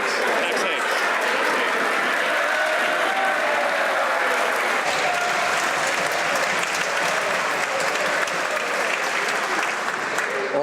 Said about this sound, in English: We all like applause most of the time, but not necessarily always.